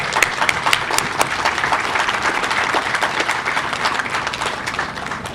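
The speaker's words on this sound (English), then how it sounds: "I'm going to clap." An audience at a Memorial Day service for veterans bursts into steady, dense applause, many hands clapping continuously and fairly loud throughout.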